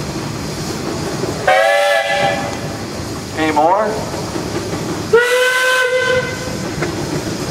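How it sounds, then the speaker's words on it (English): A steam traction engine whistle at a show parade sounds in loud, shrill blasts, two long ones with a shorter toot between, over hissing steam and engine noise; someone speaks briefly. "Carl, you got a whistle?"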